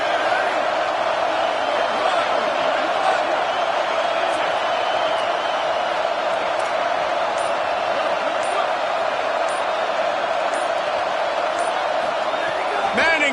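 A dense stadium crowd roars steadily at a college football game against Texas A&M on a big third down, a loud, unbroken wash of noise with commentary voices over it.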